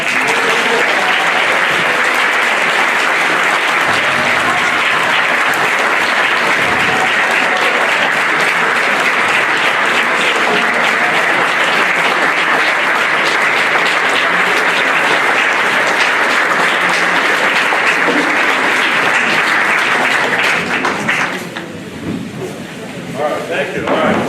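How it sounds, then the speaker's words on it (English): Town meeting audience in a hall gives a long, loud, dense round of applause that holds steady for about twenty seconds before tapering off, with a few voices murmuring as it ends. "I think we owe him a round of applause."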